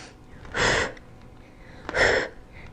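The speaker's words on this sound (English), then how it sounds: "Inhale and exhale back." Two forceful breaths during a pilates workout, each a short, breathy rush of air about a second long, close to the microphone and separated by a brief pause.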